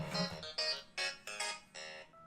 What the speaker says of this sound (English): That was my phone alarm going off.